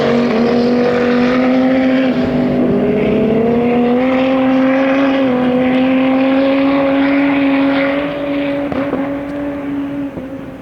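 Twin-turbo racing power boat engine roaring loud and steady with a strong droning tone that shifts slightly in pitch, then eases a little toward the end, heard at a river race.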